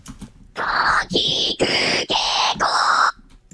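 A synthesized vocal fry scream made in OpenUtau sounds in five harsh, gritty bursts of similar length, each cut off abruptly, loud and alone.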